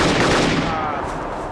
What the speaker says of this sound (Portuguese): mas dessa rajada de M14 no capa?